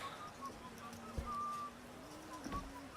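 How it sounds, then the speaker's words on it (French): Sweeper character whistling in the video game BioShock Infinite, a thin wavering tune held in a few long notes over quiet ambient game sound, with a couple of soft thumps. "Balayeur siffle."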